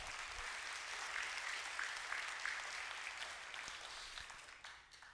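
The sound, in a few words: audience clapping hands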